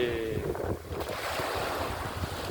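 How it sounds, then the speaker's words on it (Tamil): Ocean surf rolling onto a beach during Cyclone Fengal, a continuous loud roar of breaking waves mixed with strong wind buffeting the microphone, no voices. "எவ்வளோ தூரம் அலை வருதுங்க"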